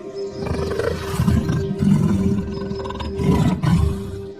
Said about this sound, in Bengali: বাঘগুলো পালাতে না পেরে গর্জন করতে থাকে।